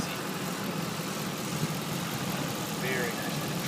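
A 2007 Ford F150 King Ranch with a 5.4 liter engine idles steadily as a constant mid-range hum with broadband noise, and faint voices sit underneath.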